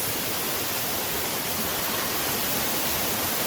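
A waterfall pours with a steady, dense rushing roar that holds constant and unbroken throughout, close and fairly loud, with no voices over it.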